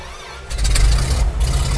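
A Piper Aerostar aircraft piston engine catches and starts, a deep close rumble rising abruptly after a brief quiet moment and settling into a steady, loud low roar.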